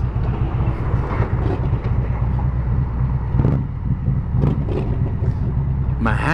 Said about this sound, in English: Traffic starts.